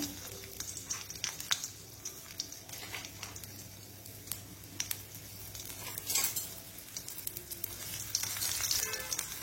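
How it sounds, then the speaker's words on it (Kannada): Crushed garlic sizzles steadily in hot oil in a pan for a South Indian lady's finger saaru, a soft, continuous frying hiss broken by occasional clinks of a utensil against the pot. "ಈಗ ಜಜ್ಜಿಟ್ಟಂತಹ ಈ ಬೆಳ್ಳುಳ್ಳಿಯನ್ನು ಇದಕ್ಕೆ ಹಾಕೊಳ್ತಿದ್ದೇನೆ"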